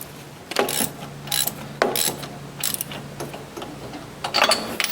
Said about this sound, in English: When you're putting spark plugs in, you don't want to crank them down really tight.